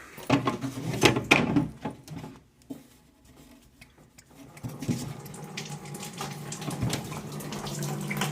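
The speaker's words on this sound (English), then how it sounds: "so this is draining down, which is lower than here. But I am getting a little water out." Water drains from an opened pipe during a leaky gate valve replacement, with a clattering, gurgling burst early on that fades to a thin, steady trickle with scattered knocks and handling noises.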